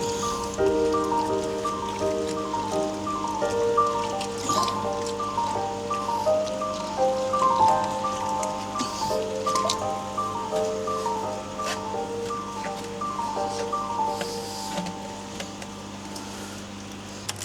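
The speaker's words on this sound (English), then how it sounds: "I'm just going to go and give the media a rinse through, give the tube a clean" Water splashes and patters steadily over filter media being rinsed from a Tornado 3 koi pond filter, with a constant low humming tone running underneath.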